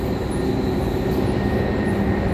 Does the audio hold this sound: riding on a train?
yes